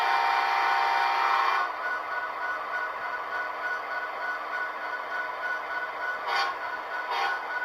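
A model locomotive from a new hobby-shop stock run sounds its horn, a sustained tonal blast that cuts off, followed by two brief short toots, close and fairly loud over a faint background hiss.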